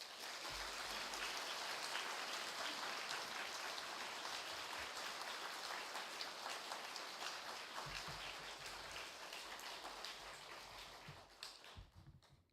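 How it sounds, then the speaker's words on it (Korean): A church congregation applauds to welcome a visiting pastor at a Korean pre-dawn Thanksgiving prayer service, sustained hall-filling clapping that slowly thins and fades out toward the end. "큰 박수로 환영해 주시기 바랍니다"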